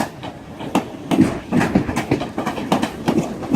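A Pendolino or Voyager train at Crewe station on the West Coast Main Line, its wheels clattering over rail joints in a steady clickety-clack rhythm, close and fairly loud.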